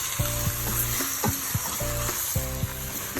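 Beef chuck browning in rendang paste sizzles loudly and steadily in the pan, with a few sharper crackles and spatters standing out from the constant frying hiss.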